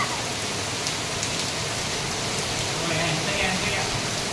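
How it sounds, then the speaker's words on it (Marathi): Steady heavy rain pours down as the first monsoon shower in the Konkan, a dense continuous hiss on every surface that stays even and enveloping throughout, with no other clear sounds. "आपण पाहू शकता पाऊस कसा पडतोय तो"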